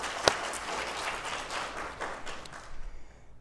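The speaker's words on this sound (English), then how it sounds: "She deserves a round." A modest audience at a talk gives a round of applause for an arts curator, fairly faint and somewhat distant clapping with one sharp clap near the start, tapering off at the end.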